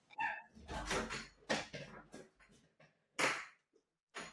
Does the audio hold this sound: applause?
no